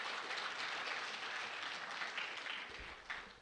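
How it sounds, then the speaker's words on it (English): Steady audience applause welcoming a student speaker at a 2017 research symposium, a faint, even wash of many hands clapping at a distance that gradually tapers off. "Let's give her a welcome applause."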